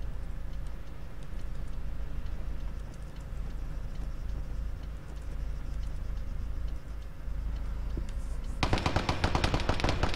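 Distant automatic gunfire from a video game firefight in Kavala crackles in rapid ticking bursts over a low steady hum, growing into a louder, sharper volley near the end.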